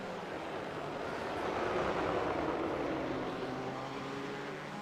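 A BMW race car's engine during a GT Challenge race at Okayama in a racing video game: a steady, droning roar that swells slightly in the middle and then eases, continuous and moderately distant.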